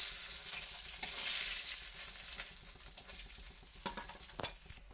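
Fish pieces, part of a gourd-greens dish made with fish head, hiss and sizzle steadily in hot oil in a pan, with a constant crackling bed and a few sharper pops and spatters near the end.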